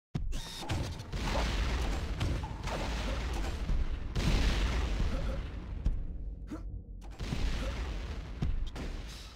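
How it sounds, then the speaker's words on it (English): A grenade launcher fires in a multiplayer cave shooter game, giving dense booming blasts and explosive rumbles in rapid bursts, loud and close, with short gaps between volleys. "Grenade launcher."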